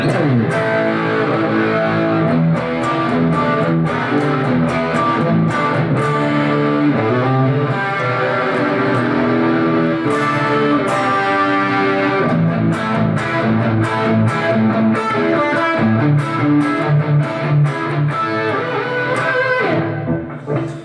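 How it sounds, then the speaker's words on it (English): Heavily distorted electric guitar through a Lexicon MX200 effects unit on full distortion plays a dense, continuous riff, loud and saturated throughout, with steady rhythmic chugging and no voices. "This is full distortion here."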